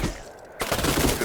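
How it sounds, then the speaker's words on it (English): A machine gun in the WWII strategy game Combat Mission Final Blitzkrieg fires at a distant bunker, a dense, loud roar of shots that drops out briefly and then surges back. "I moved this machine gun into a position where they can directly target this bunker"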